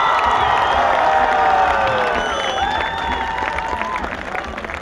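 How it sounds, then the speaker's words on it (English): A big round of applause and cheering greets fifteen young contestants at a youth culinary competition's closing ceremony, a dense crowd clapping with whoops and shouts, loud and steady before easing slightly toward the end. "can I have a big round of applause for all these young 15 kids, please?"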